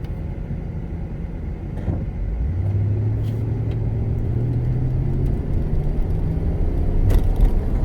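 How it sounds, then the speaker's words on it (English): A Toyota Tundra pickup with a rear lift and modified leaf springs rumbles along on a test drive, its engine note rising steadily as it accelerates over constant road and tyre noise, heard from inside the cab. "so let's go take it for a test drive, and I'll show you how it feels like to drive it"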